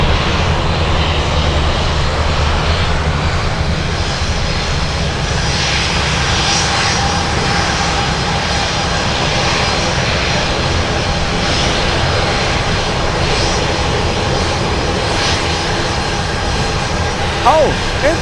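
Jet engines of a UPS cargo plane lining up on the runway at Anchorage airport, a steady, loud broadband roar holding throughout, with a faint voice at the end.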